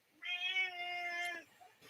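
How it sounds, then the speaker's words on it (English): A house cat lets out a single drawn-out meow, clear and close, rising then held for about a second before trailing off, with quiet room sound around it. "My cat's chiming in."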